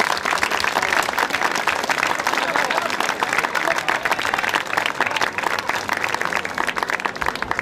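An audience claps at the opening of the 2015 wine festival in Radebeul Altkötzschenbroda, dense sustained applause from a large crowd, loud and close, holding steady throughout with faint crowd murmur beneath.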